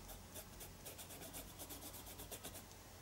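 Paint rubbed lightly over the raised areas of a mixed media canvas, a faint steady dry scraping with soft rhythmic strokes, close and quiet with no talk.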